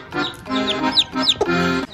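An Aseel hen and her newly hatched chicks cluck and cheep close by, a loud run of rapid, rhythmic clucks mixed with high chick peeps, with no talk.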